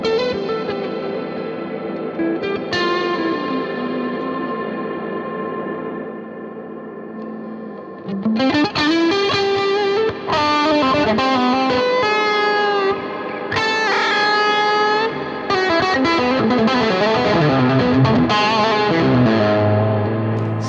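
An electric guitar plays through a Neunaber Audio Element reverb pedal, first sustained chords trailing into a lush wash, then busier picked phrases with long, shimmering tails ringing out loud and alone.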